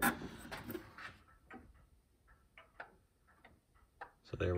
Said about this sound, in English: I can wind this clock and it'll run for a little while.